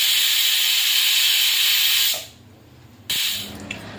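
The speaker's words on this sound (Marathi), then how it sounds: "आणि 3 शिट्या आपण घेतलेल्या आहे कुकरच्या" A pressure cooker with tomatoes, onion, garlic and stems for soup lets out a loud, sustained steam hiss that cuts off abruptly, then a shorter burst of hissing follows after a brief pause.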